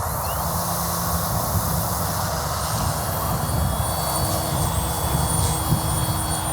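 An AW911 Airwolf GPS RC helicopter hovers outdoors in strong wind, its steady high whine and motor hum running continuously under heavy wind rumble, fairly loud and unbroken with no one speaking.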